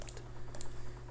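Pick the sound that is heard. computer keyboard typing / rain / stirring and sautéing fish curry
computer keyboard typing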